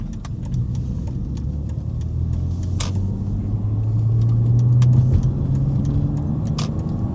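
An old BMW car is driven with its engine revving toward 4,000 RPM, a loud, steady low rumble swelling slightly in pitch and level midway, with road noise and faint ticks over it.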